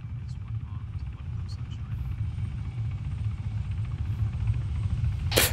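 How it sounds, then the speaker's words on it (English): Helicopter in the Arma 3 video game approaching a landing zone, a steady low rotor rumble and drone that holds level throughout, with a sharp broadband burst near the end. "Chopper's coming in."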